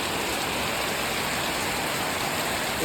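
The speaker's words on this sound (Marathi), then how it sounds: "पाऊस खूप येत आहे तर खरा पावसाळा आता चालू झालेला सारखा वाटतो" Heavy monsoon rain pours down steadily as a dense, unbroken hiss of drops on surfaces, loud and constant with no voices.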